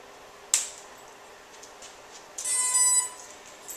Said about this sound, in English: That noise is the motors initializing.